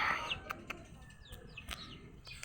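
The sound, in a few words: chicks peeping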